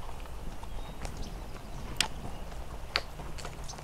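Horse hooves clip-clopping along the Pacific Crest Trail through a mountain forest, a faint irregular series of soft thuds with a couple of sharper clicks over a low rumbling background.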